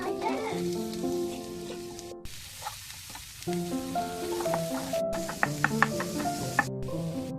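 Garlic fries in oil in a pan with a steady, close sizzle that pauses briefly partway through and then resumes, with music playing alongside.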